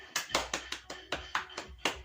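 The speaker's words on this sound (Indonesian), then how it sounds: "Beri tepuk tangan kepada kelompok 4" A classroom of fifth-grade children claps in quick bursts, about eight loud slaps spaced in a steady, slightly uneven rhythm, close and clear with no talk over it.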